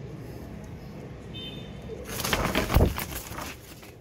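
Low cooing of Royal Teddy pigeons mixed with rustling and fluttering close by, growing louder toward the middle before settling.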